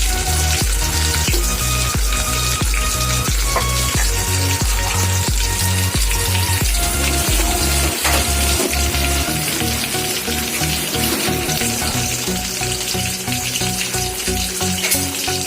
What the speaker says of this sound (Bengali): লো ফ্লেমে ধৈর্য ধরে 5 থেকে 10 মিনিটের মতো ভালো করে ফ্রাই করতে হবে।